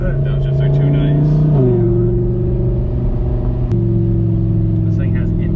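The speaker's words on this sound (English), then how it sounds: "That downshift is so good." A 2015 Audi R8 V10 exhaust rumbles loudly and close, with two distinct downshift steps where the engine note drops, while voices talk over it.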